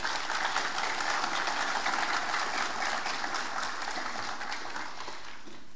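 Steady, dense applause from a seated audience at a formal speech event honouring Norway's Crown Prince Haakon, broad and continuous with no voices, tapering slightly toward the end.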